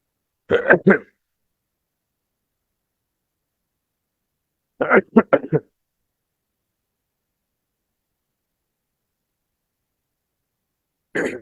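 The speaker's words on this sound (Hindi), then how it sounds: "थोड़ा खांसी की वजह से डिस्टर्बेंस हो सकता है।" Three short, harsh bursts spaced apart with silence between, the middle one a quick cluster of two or three coughs, close and fairly loud.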